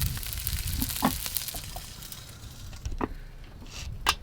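Water poured onto hot coals inside a kamado grill sizzles and hisses steadily, with a few sharper crackling pops breaking through near the grill.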